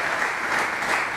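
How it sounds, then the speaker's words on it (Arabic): A studio audience at a televised Arabic talent-style contest claps steadily and densely for the whole short moment, close and fairly loud, with no voices over it. "شو رايك هذول يستحق تصفيق؟"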